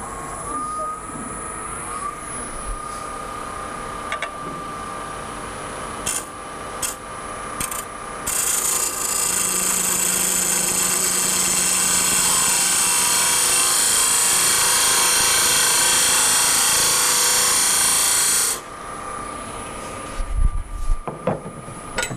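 Lathe turning a tenon on the end of a horn, a steady motor hum with a loud rasping cut that swells for about ten seconds then stops, leaving the machine running with a few knocks.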